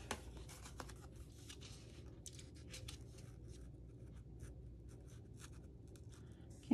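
Backing being peeled off chipboard pieces, a soft continuous crinkly tearing and scratching close by, with no talk over it.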